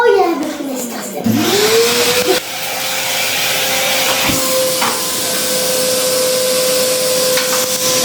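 A Henry hoover vacuum cleaner runs loud and close with a steady whining drone and airy hiss. Its pitch sweeps up as the motor winds back to speed, with a few brief bumps along the way.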